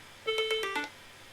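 A single short ring from a phone set off by a TrackR Bravo tracker: a few bright, rapid electronic tone pulses over about half a second, fairly faint, then quiet.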